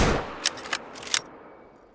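Three sharp gunshots from a .338 rifle in a video game crack out about a quarter second apart, each with a quick echoing tail, following a brief burst of noise at the start.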